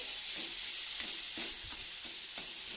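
Olives sautéed in a pan give a soft, steady sizzle with rhythmic scraping stirs every half second or so, fairly faint and close, no talking.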